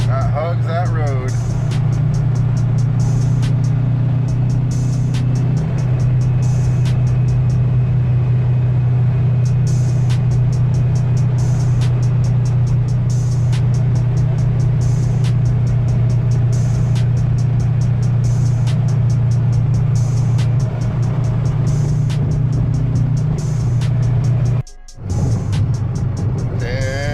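A car cruising at highway speed on a long drive in Mexico: a loud, steady low engine and road drone that carries on throughout, with a regular ticking overhead and one brief dropout near the end.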